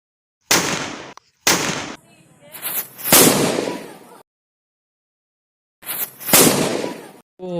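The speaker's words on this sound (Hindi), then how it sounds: "ओ भाई साहब यहाँ पे कितना डेंजर धमाका हुआ" Firecrackers set off by a remote button burst in a rapid series of loud, sharp cracks and crackling pops, with gaps of near silence between volleys and a final cluster of blasts.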